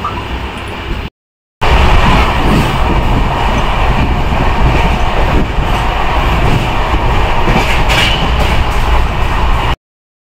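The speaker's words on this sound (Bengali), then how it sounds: "ট্রেনে চেপেছো, ট্রেনে মজা করো" Steady rumble and rattle of a long-distance passenger express heard from inside the coach on a hot journey toward NJP, broken by a brief dropout early on, with wheel clatter running underneath throughout.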